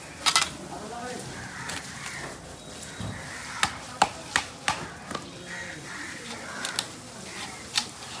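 Knife chopping through a fish's belly to get at the roe, a series of sharp, irregular cutting knocks over a busy background, with people talking throughout.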